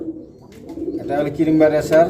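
Low, soft cooing of pigeons with chicks, a few throaty rolling calls close by, with faint background chatter.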